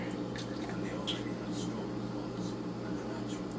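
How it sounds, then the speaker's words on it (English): Bavarian Hefeweizen beer pours from a keg in a steady, fizzing rush of liquid that runs unbroken over a low electrical hum. "And I'm pouring out the first beer."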